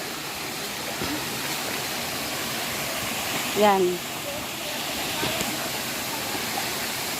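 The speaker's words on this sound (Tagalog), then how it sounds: "Yung nahuhulog na tubig." Waterfall seen while walking uphill toward it: a continuous broadband rush of falling water at steady loudness, with a brief voice speaking midway.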